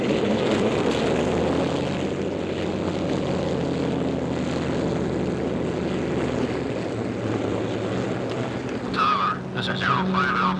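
Propeller airliners at a 1956 airport give off a loud, steady engine roar that fills the whole clip. A brief voice comes in near the end.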